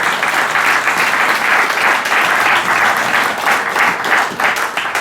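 A church congregation applauding together, steady loud rhythmic clapping that fills the space without pause for the whole stretch.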